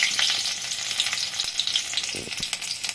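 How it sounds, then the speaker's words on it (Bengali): Slit green chilli and black cumin seeds sizzle in hot oil in a pan, a steady close hiss with crackling pops and a few soft knocks of a spoon against the pan. "চেরা কাঁচা লঙ্কাটা তেলের মধ্যে দিয়ে দিব।"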